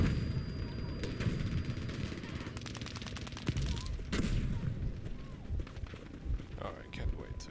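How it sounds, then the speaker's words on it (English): Battlefield V combat with distant artillery bombardment and gunfire, a dense mix of rapid shots, bursts and heavy thuds rumbling continuously, with a player talking over it. "Getting bombarded."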